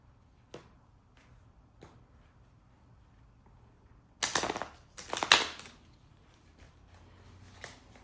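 A deck of angel cards being shuffled: faint scattered taps, then a few dense bursts of riffling and snapping card noise in the middle, quiet and close with no talk.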